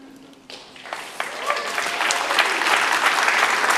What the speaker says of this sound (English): You're going to have to clap for like 30 seconds